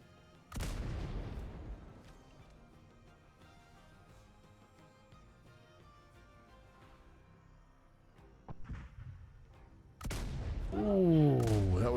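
Field cannons firing in a naval roleplay game: a loud heavy boom near the start with a long decaying rumble, a smaller thud later, then another burst of booming and whistling effects near the end.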